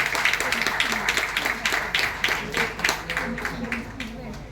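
Applause from the audience at a retirement ceremony, a steady run of many hands clapping for several seconds at even loudness, fairly close.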